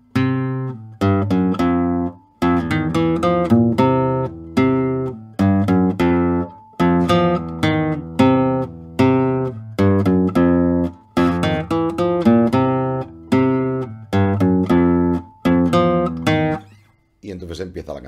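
A guitar plucks the rhythmic, syncopated bass intro of a bolero in short repeated phrases with brief pauses, played alone and close.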